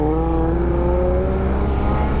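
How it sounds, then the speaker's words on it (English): A nearby vehicle with a loud aftermarket exhaust passes on the road, heard from a moving motorcycle as a steady droning engine tone slowly dropping in pitch over wind and road rumble. "God, people and their stupid exhausts."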